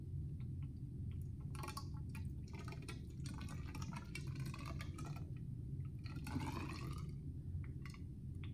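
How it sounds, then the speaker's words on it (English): Liquid poured slowly through a burette funnel into a burette with the stopcock closed during a titration, a soft, steady trickle and gurgle running throughout over a constant low background hum. "I'm going to use a burette funnel to fill the burette up with the stopcock closed. I'm going to pour slowly so that I don't overfill this."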